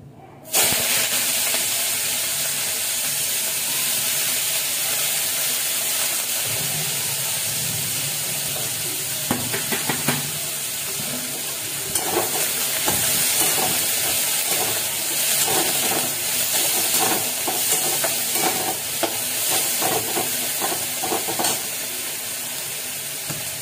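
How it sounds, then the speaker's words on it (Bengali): Bitter gourd dropped into hot white oil in a kadai, a sustained loud hiss and sizzle of frying with intermittent crackles and stirring scrapes, no voice over it. "এবার আমি উচ্ছেটা ভাজবো"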